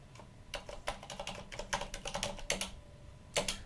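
A password is typed on a computer keyboard as a quick, irregular run of close, crisp key clicks with short pauses, at low volume and with no talking.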